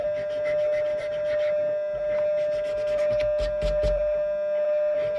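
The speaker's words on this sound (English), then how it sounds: "So you just sand that down." Metal pocket clip edges for a Swiss Army knife being sanded produce a continuous, close rubbing rasp. A steady high tonal hum sits under it, and a few heavier scrapes come near the end.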